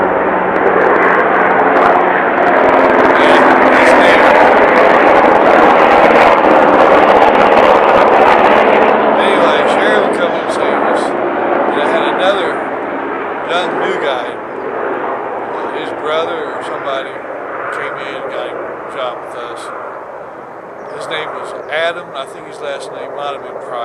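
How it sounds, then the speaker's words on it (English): A low, steady military helicopter drone fills the clip, loud at first then easing slightly, with a voice talking faintly beneath it. "Another Navy helicopter, Army helicopter."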